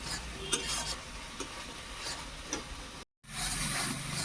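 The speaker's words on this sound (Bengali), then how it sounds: "দিয়ে দিচ্ছি হলুদের গুঁড়ো, এটা বেশ কিছুক্ষণ ধরে কষিয়ে নেবো।" Onion paste with turmeric powder sautés in a pan for a fish curry, a soft continuous sizzle under repeated spoon stirring and scraping, broken by a brief silent cut before the frying resumes louder.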